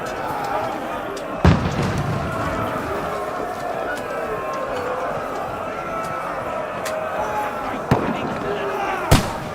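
Three sharp gunshots ring out in the medieval action game Kingdom Come Deliverance 2, spaced well apart against a busy, steady battle backdrop, the first and last especially loud and close.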